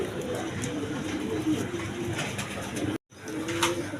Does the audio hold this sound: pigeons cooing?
yes